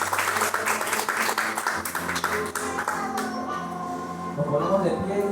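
A church congregation claps steadily together, with voices and music mixed in under the applause.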